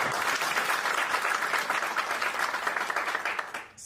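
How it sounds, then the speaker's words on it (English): Audience applause at a live inaugural event, steady dense clapping from a crowd sustained throughout before thinning at the very end. "And some of the enterprises that you see here, give them a proper clap."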